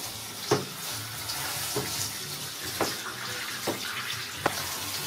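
Shower water runs steadily while a small dog is washed, a continuous hiss with a few soft knocks and splashes and no talking.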